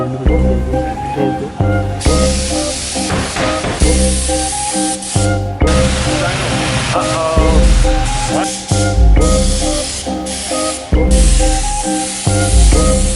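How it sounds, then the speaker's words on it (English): Spray gun hissing as paint goes onto a Honda Civic EK in a shop converted into a paint booth, long spray bursts broken by short stops, with music playing throughout. "we'll fast forward to us spraying that color."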